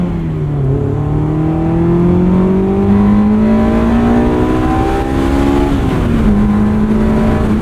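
A Honda S2000 is driven hard, its engine climbing steadily in pitch through a long rev, then dropping briefly at a shift before pulling again, loud and close from inside the cabin.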